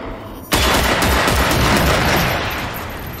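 Rapid automatic gunfire in the video game Generation Zero bursts in loudly after a brief quiet moment, then continues as a dense, sustained volley of shots with no talking.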